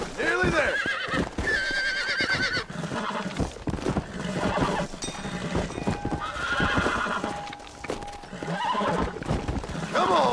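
In Red Dead Redemption: Undead Nightmare, a horse neighs and whinnies in several loud calls over clattering hooves, close by, while a voice talks over the commotion.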